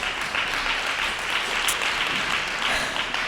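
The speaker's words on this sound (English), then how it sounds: "please give Ivan a round of applause." An audience at a community meeting gives a steady round of applause, a dense, even wash of many hands clapping at moderate distance, with no voices on top.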